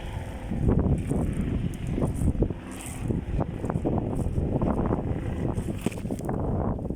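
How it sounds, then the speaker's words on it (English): Gusty wind buffets the microphone with low rumbling bursts, fairly loud and uneven throughout. "Windy, terrible day."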